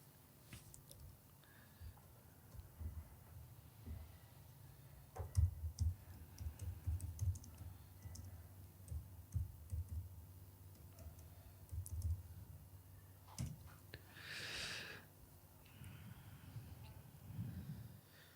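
Faint tapping on a computer keyboard, scattered soft clicks and short runs of keystrokes heard at a distance over a low background rumble.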